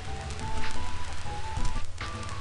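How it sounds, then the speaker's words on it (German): Steady rain hisses through a round of the Nintendo 64 golf game Mario Golf, a dense, even patter with a few soft swells and no voices over it. "Und es regnet wieder."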